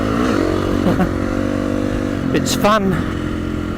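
KTM-style motorcycle engine while riding, a steady throbbing drone with shifting rev tones beneath a voice that talks over it.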